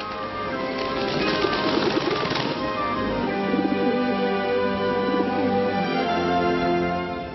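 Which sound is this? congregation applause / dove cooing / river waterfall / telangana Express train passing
dove cooing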